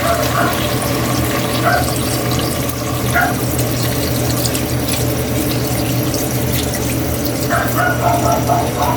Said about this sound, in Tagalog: Lagyan na natin ng tubig yan